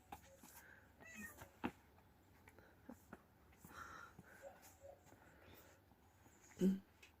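A cat meows faintly and intermittently in a quiet outdoor setting, with one louder meow near the end and soft murmuring voices.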